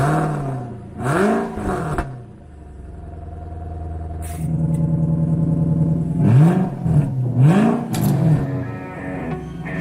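A rear-wheel-drive 2007 Infiniti M45 with a 4.5 liter V8 and an exhaust cutout revs hard several times, each rise and fall loud and close, separated by a rough, steady idle.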